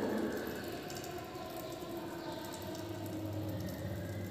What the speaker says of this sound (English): I am going to drop the water.